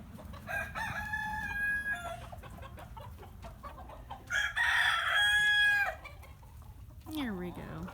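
Hens cluck and a rooster crows around a snow-covered coop as the snow melts, with two loud bursts of crowing and bright squawks over a steady backdrop of close, busy fowl chatter.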